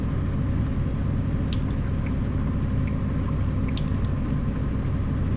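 A truck engine in American Truck Simulator drones steadily, a constant low rumble with faint road and rain noise and a few small ticks, no one talking.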